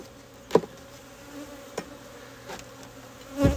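Honeybees drone around an opened hive during an inspection, a faint steady buzz with a few short louder passes and light knocks of hive parts close by, and no voices.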